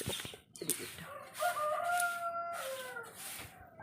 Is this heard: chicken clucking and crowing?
yes